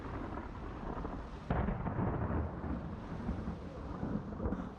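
Heavy rain pours steadily through a lightning storm as deep rolling thunder swells in partway through, a dense, continuous roar with no voices.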